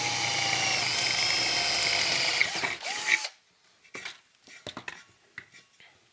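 A drill bores holes for speaker jacks in a tube amplifier headphone adapter build, a steady whirring grind lasting about three seconds, then scattered light clinks and taps of small metal parts.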